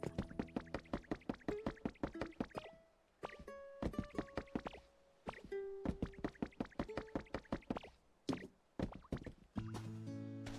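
Water being collected and poured in the game Pokopia, a run of rhythmic watery plops and splashes with short tonal chimes, fairly close and clear, with no talking.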